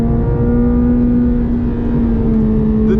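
A 2023 Chevrolet Corvette Z06 with its flat-plane V8 pulls hard from inside the cabin, a loud, steady, high-pitched engine wail holding a sustained tone as it accelerates, with no talking.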